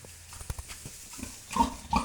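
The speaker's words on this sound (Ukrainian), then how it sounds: "Ось такі поросятка." Soft grunts from Hungarian Mangalica piglets at close range, a couple of low snuffling oinks near the end over faint rustling.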